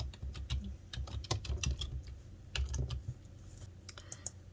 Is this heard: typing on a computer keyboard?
yes